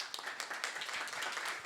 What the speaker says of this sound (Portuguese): Salva de palmas aí para Rafael.